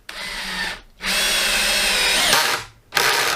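A DeWalt Atomic DCD709 cordless combi drill set to clutch setting 9 whines loudly at close range in two sustained bursts separated by short pauses, with a third burst starting at the end.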